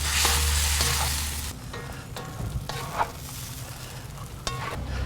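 Shrimp scampi is tossed in a cast iron wok on a Kamado Joe grill, a loud hiss that drops to a softer simmering sizzle with a few clanks of a utensil against the metal, no talk.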